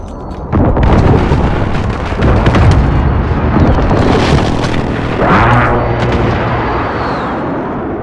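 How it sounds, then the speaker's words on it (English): Precision airstrike explosions rumble through a Call of Duty: Modern Warfare match, a steady run of loud, booming blasts rolling on for several seconds with a fresh burst partway through. "Friendly precision airstrike on the way."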